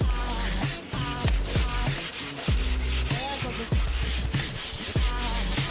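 A reseal-shaped sanding block rubs over a car light that was black, dry abrasive scraping in steady back-and-forth strokes, close and fairly loud, with thumps between passes and no talking.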